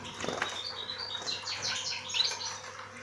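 Canaries in an aviary, about fifteen birds sharing the cage, chirp and tweet in bright overlapping calls. Wings flutter and flap close by throughout, with no voices.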